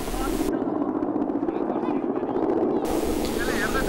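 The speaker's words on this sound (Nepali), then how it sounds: "पहाडको खोज छिचोल्दै हेलिकप्टर सालदाङमाथिको आकाशमा देखा पर्यो" A helicopter flies over the mountain sky above Saldang, its low rotor thump droning beneath someone speaking.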